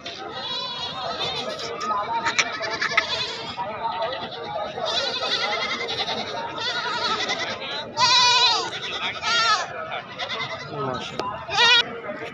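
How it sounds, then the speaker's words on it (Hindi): Goats at a livestock market for sacrificial animals bleat in loud, wavering cries, several overlapping, close by and repeating over a steady murmur of crowd chatter and talk. "और बकरियां देखो तकरीबन 3 तो 4 5 बकरियां खड़ी ने जी"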